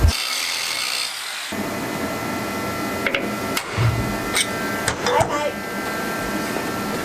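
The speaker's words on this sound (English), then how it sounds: "So I'm grinding off the back of them with the grinding wheel" A grinding wheel grinds off the backs of rivets on an old school bus ceiling panel, a steady harsh rasp with sharp bursts and scrapes, close and loud throughout.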